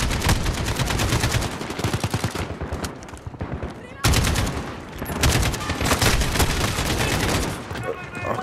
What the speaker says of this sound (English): love the way the gun sounds. It sounds terrific.